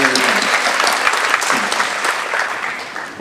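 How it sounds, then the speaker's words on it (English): Audience applause at the PCC 2022 commencement ceremony: a steady, dense wash of many hands clapping at once, holding loud and even for the whole stretch with no speech over it. "Great round of applause."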